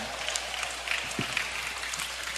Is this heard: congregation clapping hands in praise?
yes